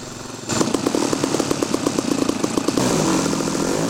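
Small glow engine on an RC Cessna Agwagon model airplane catches and runs, a loud buzzing rattle with rapid pulses that steadies into a continuous high drone close by.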